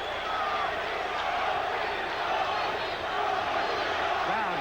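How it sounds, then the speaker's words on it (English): Dense crowd noise at an IBF super featherweight title boxing bout, Tony Lopez vs Rocky Lockridge late in round 10, a steady roar with rhythmic chanting of a fighter's name sustained throughout, fairly loud and continuous. "Crowd chanting, Tony, Tony."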